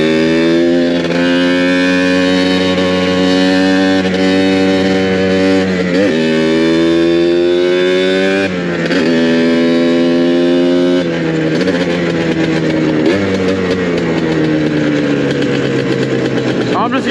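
A Yamaha Blaster ATV engine runs loud and close throughout, its droning tone rising and dropping through several revs and gear changes.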